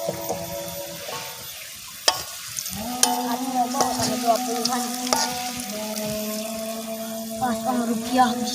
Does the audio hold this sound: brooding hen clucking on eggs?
no